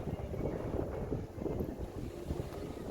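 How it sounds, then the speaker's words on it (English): Chilly wind buffets a microphone outdoors, giving a steady, close, low rumbling roar with gusty swells and no voices. "this wind is chilly"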